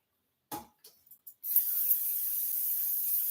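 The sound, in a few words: spraying cooking spray onto chicken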